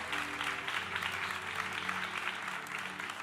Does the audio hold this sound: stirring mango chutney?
no